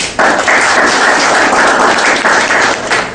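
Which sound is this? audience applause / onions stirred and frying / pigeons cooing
audience applause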